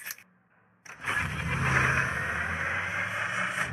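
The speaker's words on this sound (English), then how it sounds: "Engine boost activated." A vehicle's engine boost kicks in during a video game: after a brief quiet gap, a loud roaring engine surges up and holds steady at a sustained rumble.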